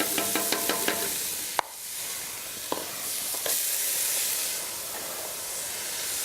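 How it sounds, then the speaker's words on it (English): Onions frying in olive oil in a pan give off a steady broadband sizzle and hiss, close and fairly loud, with a few sharp clicks and pops early on and no voices. "I have a little olive oil in both these pans. I'm also gonna get a little onions going."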